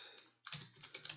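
Keys clatter on a computer keyboard as Python code is typed. The taps are quiet, rapid and uneven, with a brief pause early on, and no voice is heard.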